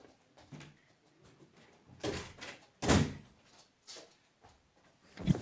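A garage door in a home workshop is pulled shut, giving several dull knocks and rattling thumps of varying loudness, close by and without speech.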